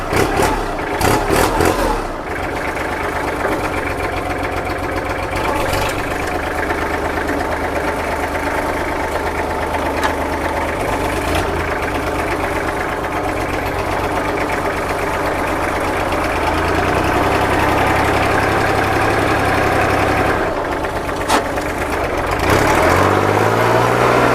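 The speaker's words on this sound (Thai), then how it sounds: "เครื่องติดง่ายครับไม่ต้องเผาหัวนะ" Kubota L3408 tractor diesel engine idling steadily, a loud close clattering chug with a brief rev near the start and slight changes in pitch toward the end, no talking.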